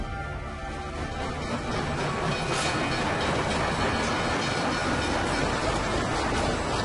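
Train pulling away in Sniper Elite V2, a loud, steady rumble with rolling wheel clatter and a faint metallic squeal, building slightly as it departs, with no voices.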